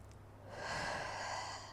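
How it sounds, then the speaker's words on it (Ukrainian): A single deep breath during a breathing exercise for hernias and posture correction, a close, airy inhale drawn in and held softly for about a second. "Поїхали, вдих і видих."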